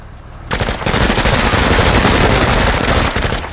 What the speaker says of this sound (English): So may as well go for them with the SMG.